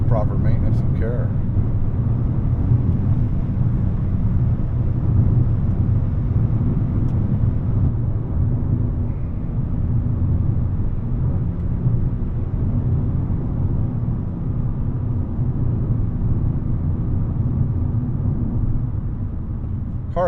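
The 2.5L five-cylinder engine of a 2012 Volkswagen Golf hums in a steady low drone while driving, with road noise continuing for the whole stretch.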